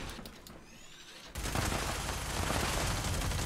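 A bloodied explosive minigun fires in the video game Fallout 76, a rapid dense burst of shots that starts abruptly after a quieter moment and continues loud and unbroken to the end.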